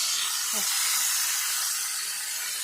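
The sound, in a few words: pointed gourd (potol) frying in a pan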